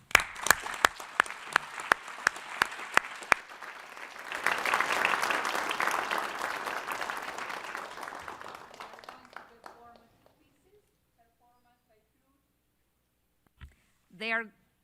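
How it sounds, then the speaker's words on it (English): A few sharp claps start, then a crowd bursts into sustained applause that swells and fades out over several seconds. "join me in welcoming them with a warm applause"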